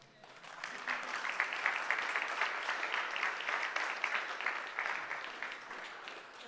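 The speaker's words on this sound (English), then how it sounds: "Go ahead, you wanted to clap." A conference audience at a ZBrush summit breaks into steady applause, many hands clapping together in a dense, sustained wash that rises after a brief start and continues throughout with no talk over it.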